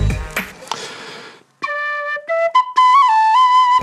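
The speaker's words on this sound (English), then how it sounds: "I dabble a little bit on the tin whistle" A tin whistle plays a few clear sustained notes that step up and down with a slight wobble, coming after some brief clattering handling noise and a quiet pause.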